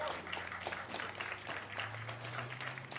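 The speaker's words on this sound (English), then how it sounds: "Let's give him a round of applause for Nolan." Audience at a high school football game between North Tonawanda and Kenmore East applauds a senior player, a faint, distant wash of scattered clapping over a low steady hum.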